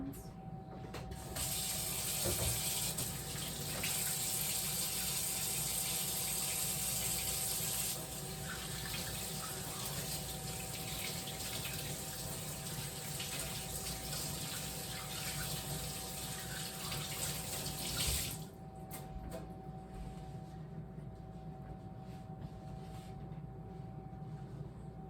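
Kitchen tap running steadily while hands are rinsed in the sink, a continuous close rush of water for most of the stretch, then the flow stops and a quieter room hum remains.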